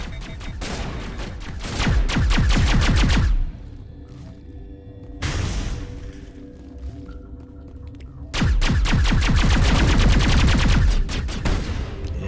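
Gunfire rings out in the video game Mass Effect: loud, dense bursts of rapid automatic shots in two long stretches, split by a quieter gap with a brief whoosh and low ambience.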